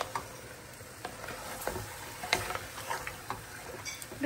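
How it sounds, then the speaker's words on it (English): Beef trotters sautéing in a pan with turmeric and paprika, a faint steady sizzle with soft scattered stirring scrapes and clicks, fairly quiet throughout. "saute this for like 2 to 3 minutes"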